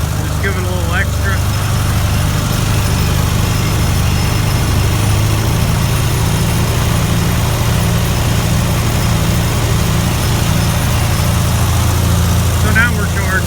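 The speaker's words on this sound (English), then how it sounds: "the engine on this tractor doesn't run very fast" A tractor engine idles slowly in cold weather with a low, steady, loud throbbing hum and vibration that runs throughout, with a couple of brief higher squeaks near the start and end and no clear talk.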